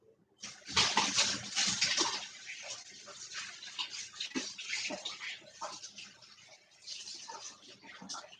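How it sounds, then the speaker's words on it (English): Warm water pours into a canning pot for pickled asparagus, a rushing fill that swells in and then runs on in uneven surges and splashes, close up with no talking. "And I'm going to add more warm water to it."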